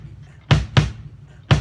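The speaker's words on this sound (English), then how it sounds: "If we play this on the bass drum, it's going to sound like this." Three deep, punchy bass drum hits in a heartbeat-like pattern, the first two close together and the third after a longer pause, each with a short boomy decay.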